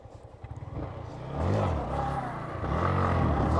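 Motorcycle engine rising from a low idle into a loud, sustained rev as the bike comes down from a wheelie, the harmonic sweeps of the engine pitch climbing and holding steady near and loud.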